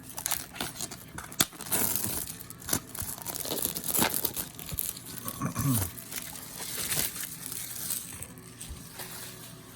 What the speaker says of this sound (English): should we unwrap this? If I can get it open.